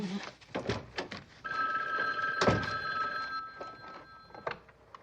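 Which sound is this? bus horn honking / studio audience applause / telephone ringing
telephone ringing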